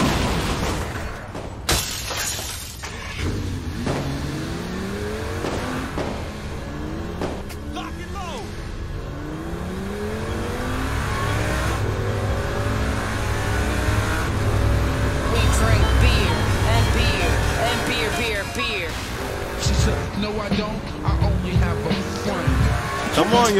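A car engine in the video game Saints Row IV revs and shifts repeatedly with rising and falling pitch sweeps, tires squealing at times, as a voice talks over it.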